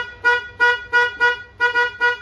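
An old car horn on a car in a DIY garage setting, sounded in seven short, close, loud honks in an uneven rhythm, some of them doubled.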